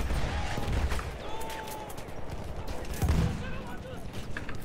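Battlefield 1 gunfire crackles through a dense battle, with bursts and scattered shots, including shotgun blasts, layered over a constant roar of combat, near and loud throughout.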